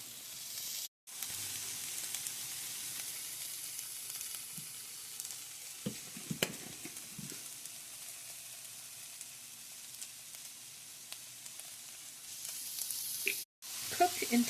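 Adobo and sazon seasonings sizzle in a hot pan for shakshuka, a steady close frying hiss with occasional stirring clicks and a couple of brief silent breaks.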